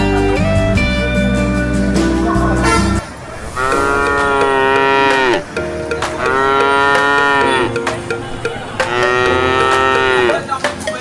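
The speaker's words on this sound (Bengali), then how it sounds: "রাফি, এটা কোন এলাকার গরু?" A cow at a busy cattle market lets out several long, loud, close moos in a row, each drawn-out call separated by short pauses.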